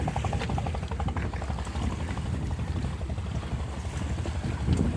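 Boat moving on the water during a fishing trip; steady broadband rumble of water and hull noise with wind buffeting, continuous and moderately loud throughout, no voices.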